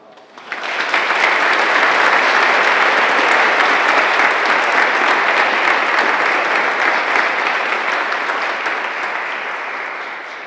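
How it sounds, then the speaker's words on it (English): An audience at a university spring tea breaks into sustained applause, a dense wash of clapping that swells quickly, holds steady and then gradually thins toward the end. "Can we give these four a round of applause?"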